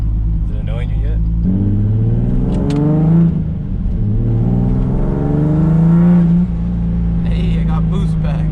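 A turbocharged car pulling hard under about 30 psi of boost, its engine note rising loudly through a gear, dropping at a shift, then climbing again, with a voice speaking over it.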